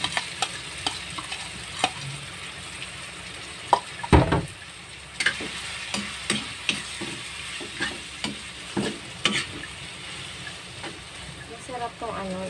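Salted egg stirred and frying in a home pan, a soft steady sizzle broken by repeated clicks and scrapes of the utensil, with one louder knock partway through, close up and with no talk.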